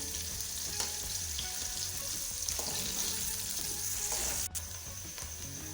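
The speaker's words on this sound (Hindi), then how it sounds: "प्याज को लाइट ब्राउन होने तक मैं फ्राई करूँगी।" Onions fry in a pan for chana pulao, giving a steady close sizzle with crackling pops and occasional stirring clinks, including one sharp knock near the end, with no talking.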